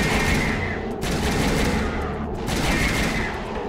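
Rapid gunfire in Onimusha: Dawn of Dreams, loud dense bursts of shots in two long volleys split by a short gap, close and with no talking.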